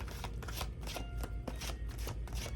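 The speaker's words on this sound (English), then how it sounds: "I have to shuffle these a little bit differently because of my tiny little hands, and these are gigantic" Oversized playing cards being shuffled by hand in repeated riffling bursts with short gaps between them, close and soft, with no talking.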